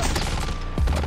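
Gunfire bursts in the mobile shooter Call of Duty Mobile, a quick volley of sharp, loud shots packed into about a second over noisy game ambience.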